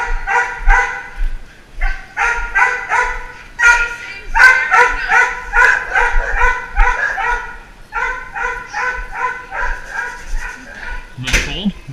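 Several dogs at the Rolla animal shelter bark repeatedly in close, loud bursts with yips mixed in, a steady chorus across the scene that stops briefly before resuming.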